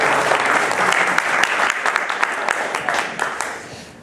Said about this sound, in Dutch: Ik denk ook wel even applaus.